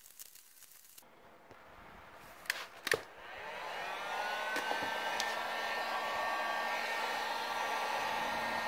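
Heat gun warming vinyl wrap on a Buick Regal interior panel, starting after a few clicks and handling noises, then a steady close whining blower with a rising tone that holds to the end.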